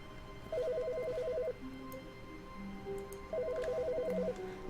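An office desk telephone rings in the video game The Stanley Parable, two electronic trilling rings separated by a pause, clear and close over a low ambient hum, with no talk.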